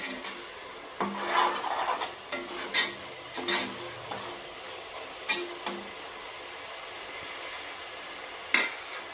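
Country chicken with tomato and green chillies frying in a pan, stirred with intermittent scraping and scuffing strokes over a faint low sizzle, close by and moderately loud.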